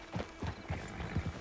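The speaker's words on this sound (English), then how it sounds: "Get on the horse when you're ready." Horse hooves clip-clopping in Red Dead Redemption 2, a quick uneven run of about six to eight close, soft thuds at walking pace.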